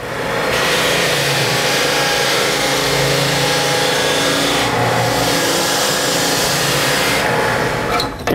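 A floor sander fitted with a brand-new 3M Regalite 50 grit belt runs as a loud, continuous close-up roar and grind with a brief dip in the middle, no voices.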